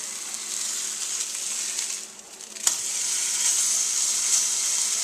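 Burgers frying slowly in a pan, a steady close hiss of sizzling fat that dips briefly, then returns after one sharp tick and carries on evenly.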